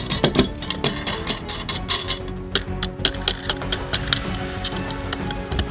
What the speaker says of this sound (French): Et on serre bien les écrous de l'autre côté.